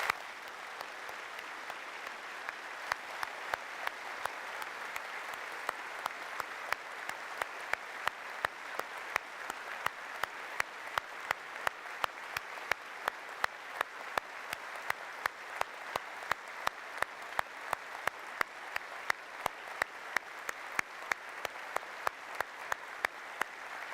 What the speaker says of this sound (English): a round of applause for the staff who have made this possible